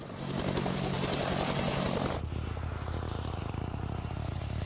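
Loud, steady helicopter rotor noise with a rapid rhythmic thudding from the main rotor wake meeting the tail rotor wake, close and continuous, shifting character partway through as the engine tone changes.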